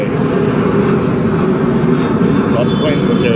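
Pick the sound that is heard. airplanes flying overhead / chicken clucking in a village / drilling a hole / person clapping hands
airplanes flying overhead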